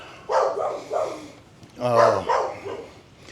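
A dog barks on a crowded Southeast Asian street, two loud bursts of barking heard close, with speech-like sounds mixed in.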